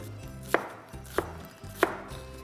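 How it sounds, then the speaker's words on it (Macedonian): Three distinct knife chops on an onion being cut into small cubes on a board, spaced about two-thirds of a second apart, close and crisp with no talk. "со нежни засеци сечеме мали коцкички од кромидот"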